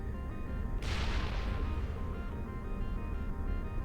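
A grenade goes off in Mass Effect: a sudden sharp crack about a second in, followed by a broad, rumbling burst of debris noise that lingers over steady game background hum.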